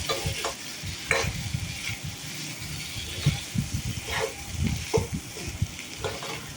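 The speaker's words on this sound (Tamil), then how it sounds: "இப்போ வெங்காயம் வணங்கிடுச்சு. இது கூடவே இஞ்சி பூண்டையும் ஆட் பண்ணிக்கிறேங்க." Onion sautés with ginger and garlic in a pan, giving a steady sizzle as the mix is stirred with repeated scraping strokes, close by and fairly loud.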